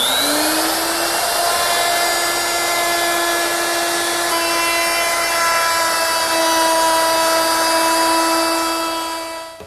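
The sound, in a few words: router with 1/4 inch roundover bit rounding ash edges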